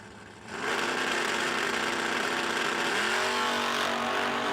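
Drag race cars launch at a no-delay nationals meet, a loud engine roar swelling abruptly after a brief quiet start and holding steady at full throttle, with rising tones as the cars pull away down the strip.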